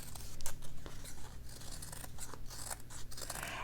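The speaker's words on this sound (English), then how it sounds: "Now here with my neutral fabrics, I like to just cut the shape again" Scissors snip through neutral-toned fabric while cutting out a feather shape, a close, steady run of soft crisp cuts and sliding blade scrapes with no talking.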